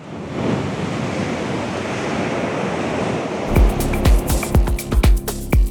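Ocean waves at a rocky beach at high tide roar as a broad, wind-buffeted wash, loud and close, before the noise gives way to a series of heavy, irregular thumps near the microphone.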